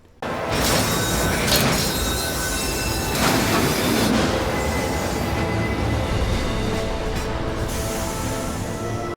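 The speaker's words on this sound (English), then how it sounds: "the iconic scene of Cloud with his massive sword riding the train coming into the station" In Final Fantasy VII Remake, a train rolls into a station: a loud rumbling rush with squealing wheels and hissing, rising quickly and holding steady before cutting off at the end.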